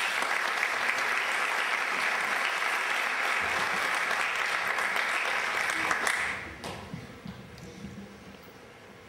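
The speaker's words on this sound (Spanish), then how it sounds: "Un fuerte aplauso, por favor." Loud, sustained applause fills a student award ceremony for about six seconds, then drops quickly to scattered, fading claps.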